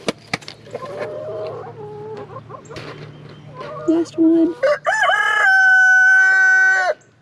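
A rooster crows loudly and clucks nearby, with a person speaking briefly at the start and other farmyard noise in the background.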